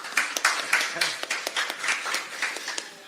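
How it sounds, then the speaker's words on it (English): A small audience at a minor-league ice hockey game broadcast gives a brief round of applause for two players, a sparse, distinct patter of individual claps with audible gaps, fairly quiet and close. "Could we get a brief round of applause for these two guys up here?"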